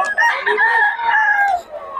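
Roosters for sale crow loudly and close by, overlapping calls filling the whole moment with long, strained cries.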